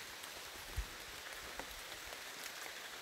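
Light rain patters steadily on the surface beside Ənbir lake in Shabran, a faint, even hiss with a single soft thump near the start.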